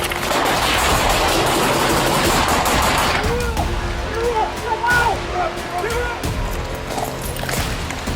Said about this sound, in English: Despite hours of negotiation, Wade refused to surrender and continued firing.